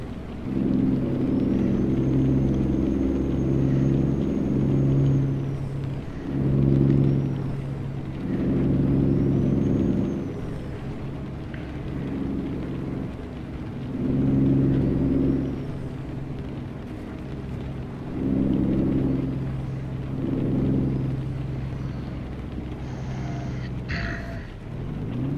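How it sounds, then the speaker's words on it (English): A steady, low truck engine rumbles on in American Truck Simulator with a hiss of rain over it, rising and falling slightly in waves, with a brief higher chime near the end. "so you can hear the truck run in the rain."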